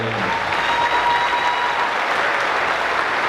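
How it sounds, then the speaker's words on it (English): Sustained applause from a large crowd at a high school graduation ceremony, steady and fairly loud, clapping continuously without a break. "just a big round of applause to them and to you as parents"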